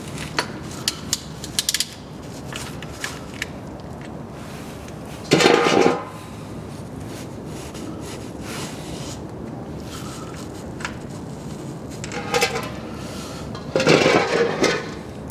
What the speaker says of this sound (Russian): Откручиваю пробочку.